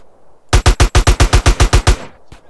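Automatic gunfire in the video game GTA San Andreas: a loud, rapid burst of about eleven evenly spaced shots, then a single fainter shot after a short pause, with no talk over it.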